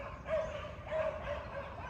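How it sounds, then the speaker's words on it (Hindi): Several dogs barking in the distance near a beach fort, a few faint, tonal barks and yips rising over a constant outdoor wash of wind and surf. "वहाँ पे कोई युद्ध चला हुआ है कुत्तों का, देखो कैसे भौंक रहे हैं"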